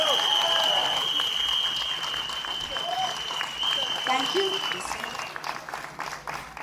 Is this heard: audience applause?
yes